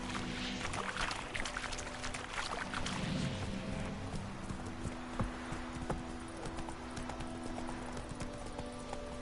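A horse in The Witcher 3 on PS4 gallops at a steady pace, hooves clopping rhythmically and fairly close, with faint ambient game sounds behind and no talking.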